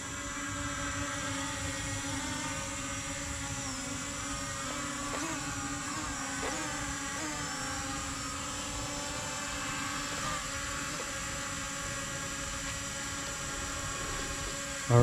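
A Ruko U11MINI drone hovers and flies close by, a steady high-pitched whine of its small propellers with layered tonal hums holding evenly throughout, shifting slightly in pitch as it maneuvers, with no talking.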